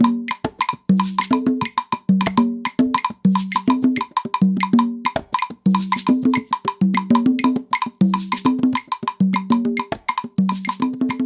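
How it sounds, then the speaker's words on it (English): Bongo groove with the larger hembra drum landing on the offbeats of beats 2 and 4, alongside a bright cowbell-like metallic pattern: a tight, steady, repeating rhythm, close and loud, no voices. "I tried playing the hembra, the larger bongo drum, on the and count of beats 2 and 4"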